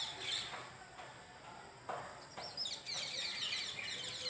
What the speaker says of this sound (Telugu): ఆ పక్షులు కిలకిల రావాలతో మేము మార్నింగ్